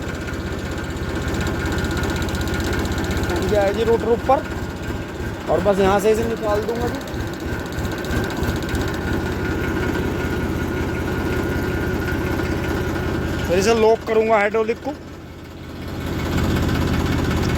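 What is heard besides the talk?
tractor engine running and idling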